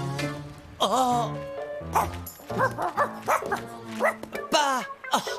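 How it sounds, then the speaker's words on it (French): A dog yips and barks in a quick, close series of high, rising yelps with whiny breaks, loud and busy across the whole stretch. "C'est un chien."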